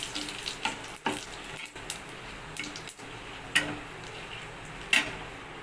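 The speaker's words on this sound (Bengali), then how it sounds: "এবার আমি ভালো করে এটা ভেজে নেবো" Cumin, dried red chilli, cardamom, cinnamon and bay leaf fry in hot oil for a prawn dal, a soft steady sizzle broken by sharp clicks and scrapes of a spoon stirring in the pan, with no talking.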